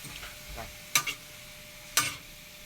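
Bitter gourd (ampalaya) stir-frying in a pan, a low, quiet sizzle broken by two sharp spatula scrapes about a second apart.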